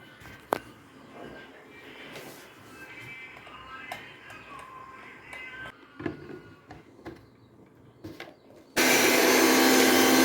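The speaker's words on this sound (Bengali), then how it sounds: "তার জন্য একটু পেঁয়াজ আদা রসুন মিক্সিতে বেটে নেবো।" An electric mixer grinder blends onion, ginger and garlic. After quiet kitchen clatter, a loud, steady whirring roar starts abruptly and runs to the end.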